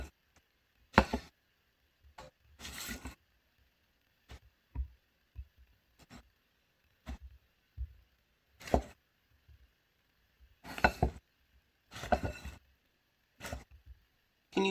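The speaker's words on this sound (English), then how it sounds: "Okay, now it's time to mix." Brussels sprouts tossed with salt in a bowl: irregular soft knocks and rattles of the sprouts being mixed, spaced out in short clusters against near silence, close and fairly quiet with no talking.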